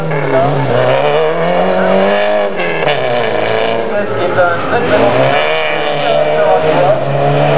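Race cars on a wet track at a 1991 auto pursuit event in Villeneuve-sur-Lot, engines droning and rising in pitch as they rev and pass, loud and continuous under a commentator talking throughout.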